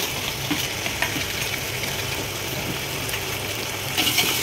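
Tomatoes sizzle and fry steadily in a hot pan while being stirred for chicken pulao, with a constant close hiss and small scraping accents, no talking.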